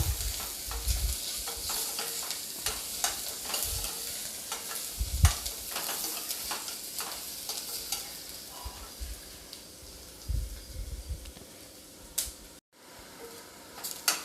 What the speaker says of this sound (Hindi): अब मैं इन सब को भी हल्का सा भूनकर